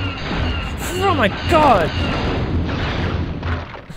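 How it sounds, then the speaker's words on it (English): Explosions rumble in a Star Wars The Phantom Menace video game, with a loud booming blast building near the middle while a player exclaims over the noise. "So many explosions."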